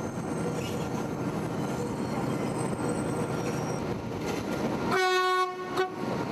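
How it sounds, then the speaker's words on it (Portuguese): A six-car train winds through the Andes high above sea level, its steady rumble running throughout, then a loud, sustained multi-tone horn blast sounds near the end. "Este trem de 6 vagões está traçando um caminho sinuoso pelo coração dos Andes."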